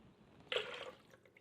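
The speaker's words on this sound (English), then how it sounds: "So we'll just continue pouring these into the blender." Coquito mixture pours into a blender in a short, soft liquid splash lasting about half a second, quiet and close.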